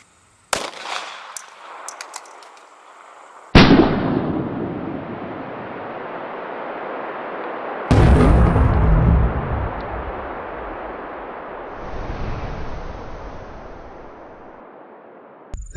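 A SIG P238 .380 pistol fires at bulletproof glass: a few loud, sharp reports spaced several seconds apart, each trailing into a long rushing, roaring decay.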